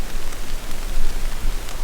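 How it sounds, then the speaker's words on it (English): Light rain sprinkles onto a tent rain fly in the Montana backcountry, producing a steady, close, fairly loud patter of drops with no voices. "it has started to sprinkle at a rate"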